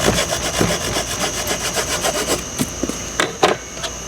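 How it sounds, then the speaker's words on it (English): A handsaw works through a thick block of balsa wood, steady rapid back-and-forth rasping strokes up close, slowing into a few separate final strokes, with no talking. "with a thick piece of balsa like this, it's just a little bit more expedient to cut it with a handsaw"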